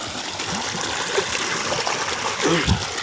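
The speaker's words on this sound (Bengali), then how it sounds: "এই দেখুন প্রচণ্ড স্পিড জলে এই শাকের ভেতর দিয়ে জলটা যাবে" Irrigation water rushing fast through a field of leafy greens, a continuous close trickling and splashing flow with a few louder gurgles.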